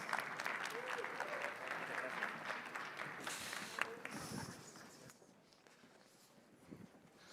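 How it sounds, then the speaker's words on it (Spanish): Audience applause for a cybersecurity panel at a conference, broad clapping filling the room then tapering off toward the end, with some murmuring underneath. "le damos un aplauso a los panelistas"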